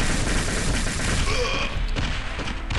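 Dense, loud bursts of gunfire from the Star Warfare Alien Invasion game, rattling continuously with a few heavier thuds.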